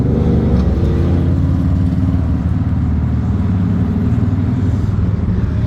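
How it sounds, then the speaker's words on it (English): Passing car and motorcycle engines from road traffic make a steady, loud, low rumble throughout, with no talking heard. "I can't fight with the engines today"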